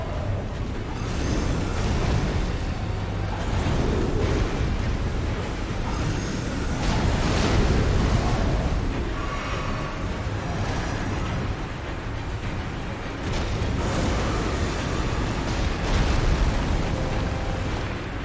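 Steady rushing water and waves in the Elden Ring game world, a continuous loud broadband wash that swells and recedes without pause.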